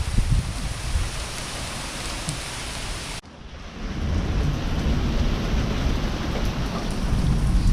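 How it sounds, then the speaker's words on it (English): Heavy rain pours down during a windstorm with gusts of up to 80 mph, a loud, dense, continuous hiss of falling water with a brief dip midway before it roars on steadily. "This is some kind of rain we're getting"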